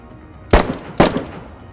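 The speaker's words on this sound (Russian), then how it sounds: "Там же где-то стреляет." Two sharp, distant gunshots ring out about half a second apart in the survival game DayZ, each with a short echoing tail over a quiet background.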